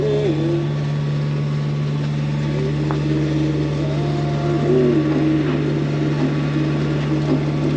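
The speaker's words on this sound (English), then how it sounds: "The light winds have kept the motor on all day." Motor of a sailboat on a passage between Catalina and San Diego, running steadily in light winds as a constant loud hum with a low drone, unbroken for the whole stretch and without talk.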